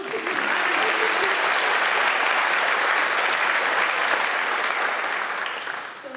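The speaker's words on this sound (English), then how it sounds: "Give yourselves a round of applause." Sustained, loud applause from an audience at an end-of-year achievement celebration, thick rapid clapping filling the space before easing slightly at the close.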